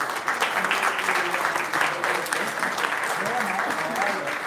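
Audience applause for volunteers and the Landsat team at a conference closing plenary, sustained steady clapping with a voice briefly audible beneath it toward the end.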